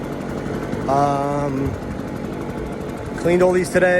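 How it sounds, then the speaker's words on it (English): A leaf blower running steadily outdoors, blowing off freshly cleaned and sanded pavers beside a stucco house, a continuous droning whoosh underneath someone talking. "Sorry about the blower."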